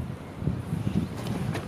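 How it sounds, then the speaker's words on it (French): Wind buffets the microphone during winter fishing outdoors, a steady low rumbling roar with gusty swells and no voices, filling the whole stretch. "Désolé pour le vent."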